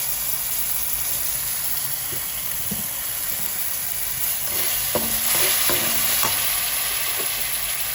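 Thai curry paste stir-fried with a mixed sauce in a pan, a steady close hiss of frying with scraping stirs and a few knocks of a utensil that come thicker in the second half, with no voices.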